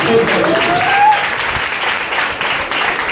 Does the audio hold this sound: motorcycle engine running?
no